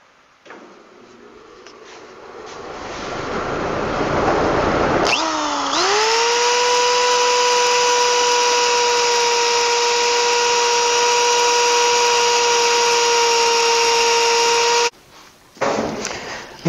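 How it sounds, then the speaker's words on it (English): A jigsaw with a fine-toothed metal-cutting blade cuts plexiglass to size. A loud, steady motor whine starts after a rising rush of noise, holds for about ten seconds, then cuts out abruptly and briefly returns. "Cutting the plexiglass to size. I'm using a jigsaw with a metal cutting blade, real fine teeth."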